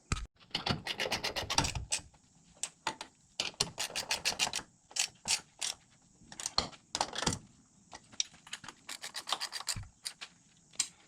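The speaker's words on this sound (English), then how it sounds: "I'll tighten those top and the bottom down, and I'll go ahead and torque this right here down as well." A wrench tightening bolts on an air ride helper spring, heard as bursts of rapid ratcheting clicks and scraping metal, close and fairly quiet, with short pauses between runs and no talk.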